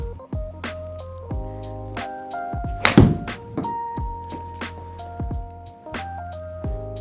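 A golf club strikes a ball on an indoor Trackman simulator playing Pebble Beach: one sharp, solid thwack partway through, surrounded by repeated electronic chimes and tones from the simulator.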